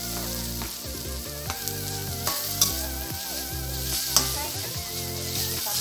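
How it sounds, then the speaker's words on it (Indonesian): Constant sizzle of food frying in a pan, with occasional soft clinks, while steady background music plays throughout. "Bisa goreng sampai kering"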